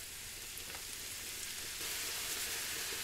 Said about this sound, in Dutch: Terwijl de risotto staat te koken, doe je een klontje boter in de pan. Hierin bak je de paddenstoelen gedurende 5 minuten.